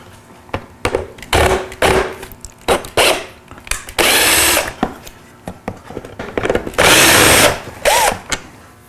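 Power drill whirring in several short bursts while backing out the two fog light screws on a Toyota 4Runner, Tacoma or Tundra, close by, with louder sustained runs in between and no talk.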